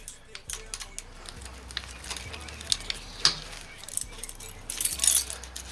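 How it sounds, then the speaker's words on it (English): Metallic clicks and a light jangling rattle come from a brake lock being fitted onto a Venom x22GT 250cc automatic motorcycle, sporadic close-up taps with a brief flurry of rattling near the end over quiet background. "Throw my brake lock on there."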